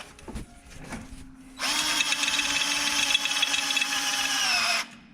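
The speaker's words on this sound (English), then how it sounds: "Drill." A power drill whirs loudly and steadily for about three seconds after a few clicks and knocks, then cuts off abruptly.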